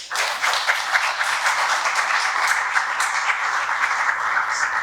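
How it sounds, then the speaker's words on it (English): Steady applause from a crowd at a panel discussion in Namibia, dense clapping sustained at an even level throughout with no speech over it. "A round of applause for him, please."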